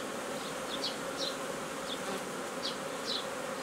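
Honeybees buzzing steadily at an overwintered nucleus hive at midday, a continuous close, moderate hum with a few individual bees whizzing past at higher pitch.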